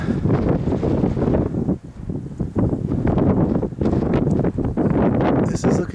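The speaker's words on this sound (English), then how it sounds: "It's pretty windy, so you might have some wind noise on the camera" Strong wind on a Sandia Mountains summit in New Mexico buffets the camera microphone, a loud continuous rumbling roar with gusty surges and brief dips throughout.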